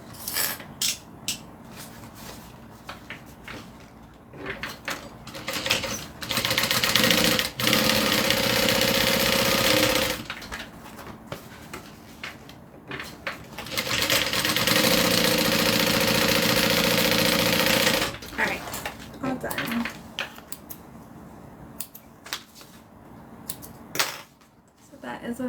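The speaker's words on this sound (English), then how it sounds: "we're going to do a top stitch along the bottom and that's going to let this lay nice and flat" A sewing machine top stitches along the bottom of a sewn piece, running in two sustained mechanical bursts with choppy stop-start stitching around them, close up, with a person talking between runs.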